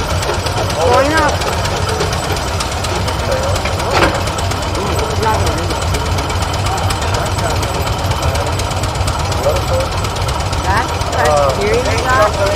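A Case steam engine runs nearby at a 2006 Case expo in Rollag, giving a continuous rumbling, knocking drone with faint voices talking over it.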